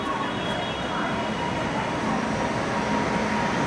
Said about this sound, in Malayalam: മീൻവെൽ പ്ലാറ്റ്ഫോം നമ്പർ 2ലേക്ക് ഏതോ ട്രെയിൻ കടന്നു വരുന്നുണ്ട്